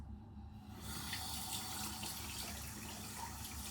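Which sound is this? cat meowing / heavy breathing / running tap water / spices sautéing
running tap water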